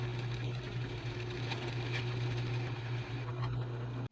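A drill press with a 1.25 inch Forstner bit bores a hole half an inch deep into wood for a bench hook, a steady low motor hum with rough cutting noise that stops abruptly at the end.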